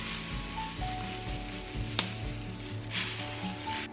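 Butter and brown sugar sizzling in a pan for a tarte tatin, a steady crackling fry with soft pops and hissing, with quiet kitchen hum and a faint tonal beep underneath.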